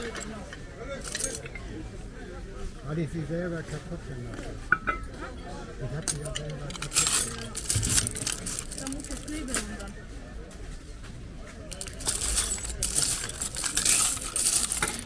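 Assorted coins rummaged through at a flea market stall, with repeated metallic clinks and jingles near and clear, while someone talks intermittently over them.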